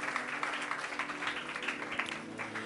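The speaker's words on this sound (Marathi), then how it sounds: "जरा जोरदार टाळ्या प्रभूच्या गौरवासाठी, जोरदार." Congregation applause during a Marathi Pentecost church sermon, a steady dense patter of many hands clapping, moderately distant and sustained throughout.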